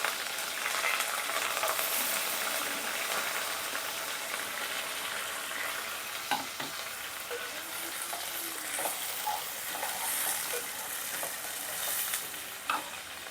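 Onions and green chillies fry in hot oil with a continuous loud hiss, punctuated by occasional stirring taps and scrapes throughout.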